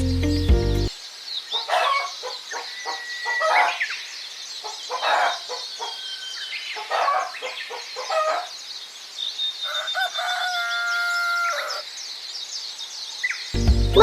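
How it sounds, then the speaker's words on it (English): A hen clucks in short, irregular bursts of chattering calls, fairly close and alone, with a sustained warbling note toward the end. "It's a hen. Hen and lays eggs."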